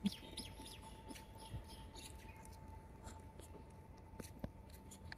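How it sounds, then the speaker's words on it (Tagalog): Birds chirp and sing in short, scattered calls throughout an outdoor setting, with a faint steady hum and some background noise under them. "Ganda ng mga huni-huni ng ibon."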